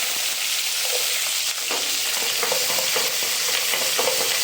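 Onions and cumin sautéing in a pan for a banana flower dumpling curry, a close, loud, continuous sizzle broken by repeated scraping strokes of a stirring spoon, with no talking.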